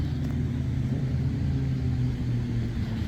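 Highway traffic along Route 30 beside an amusement park ride, a continuous low rumble of passing vehicles that holds steady and fairly loud, with no one speaking.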